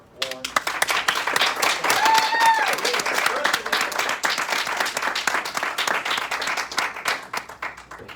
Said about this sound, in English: Have a round of applause for Lauren.